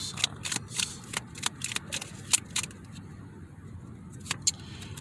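Cards drawn from a tarot deck give crisp, close flicks and light slaps. Several sharp clicks come in an uneven run with no voice over them.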